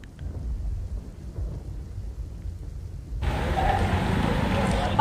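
Monsoon rain arrives in Ahmedabad, Gujarat: a low rumble of thunder rolls for about three seconds, then a heavy, steady downpour hiss breaks in and continues loudly to the end.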